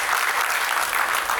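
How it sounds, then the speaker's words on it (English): A hall audience at an electric vehicle exhibition at MANIT claps for team Evolve, steady dense applause filling the room throughout, loud and close, with no voices over it. "I request all of you to please give a big round of applause for the team Evolve"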